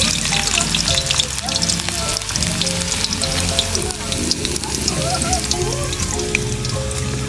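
Food fries in hot cooking oil with a loud, dense, continuous sizzle and crackle close by, while voices talk over it.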